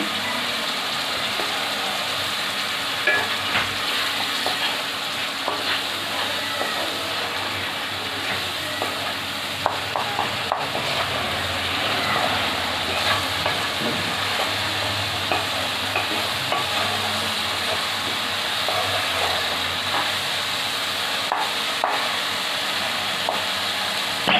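Turmeric and Kashmiri chili powder frying in oil in a pan for a duck egg curry with potato and taro, a continuous close sizzle with scraping stirring strokes throughout and no talk.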